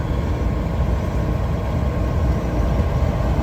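A Kenworth K100 truck engine with a big cam idles with a deep, steady rumble and a loose, chugging low-end pulse, close and continuous, with no voices.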